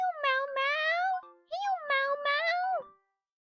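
A pet cat meows up close, giving two long, drawn-out, tonal meows separated by a short pause, clear and loud in a quiet room.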